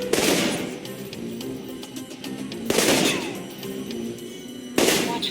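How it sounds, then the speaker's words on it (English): Assault rifle fire in the Alpha Protocol training level comes as three bursts of loud, rapid shots with echoing tails, heard without any talk. "For long-range encounters, the assault rifle's the key. It's accurate, powerful."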